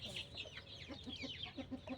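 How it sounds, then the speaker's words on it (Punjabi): A rooster clucks in a rapid, low, repeated series, with other birds chirping steadily in the background. "ਉਹ ਉੱਪਰ ਖੜਾ ਆਪਣਾ ਬਿੰਗਮ ਮੁਰਗ ਥੱਲੇ ਅੰਡਰਟੇਕਰ ਹੁਣੀ ਆਪਣੀ ਬਾਦਸ਼ਾਹਤ ਕੈਮ ਕਰਦੇ ਹੋ"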